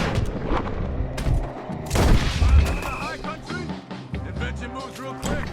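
Scattered gunshots and booming bursts in a Red Dead Redemption 2 shootout, loud and irregular, mixed with game voices and other action sounds.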